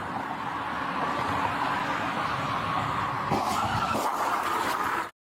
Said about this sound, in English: Go run into the back of his car.